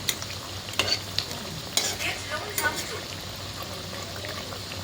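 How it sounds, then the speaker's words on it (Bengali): Onion fritters (peyaji) fry in hot oil with a constant crackling sizzle, broken by sharp clinks and scrapes of a utensil stirring and turning them. "পেঁয়াজি দিয়েছি, সবে ভাজা হচ্ছে"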